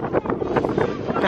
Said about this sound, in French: Le vent, c'est rigolo au début.